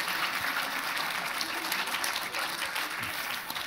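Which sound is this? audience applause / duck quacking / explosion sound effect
audience applause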